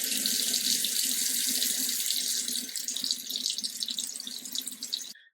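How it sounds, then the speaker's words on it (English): A bathroom tap runs steadily into a sink while someone rinses their face, giving a close, loud hiss of flowing water that thins out toward the end and then stops abruptly. "I'm just gonna start with rinsing my face off with some water."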